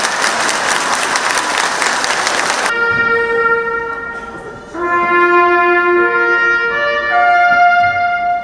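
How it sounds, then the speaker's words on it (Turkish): A gathered crowd claps loudly for the mayor at a public event for about three seconds, then the clapping stops abruptly and sustained tonal notes take over, resembling horns or music. "Evet, alkışlıyoruz başkanımızı"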